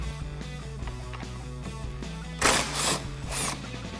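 A 10mm socket wrench loosens a clamp on a Rugged Ridge AmFib snorkel fitted to a Jeep Wrangler JL, giving a few short bursts of close ratcheting clicks over a steady low background hum.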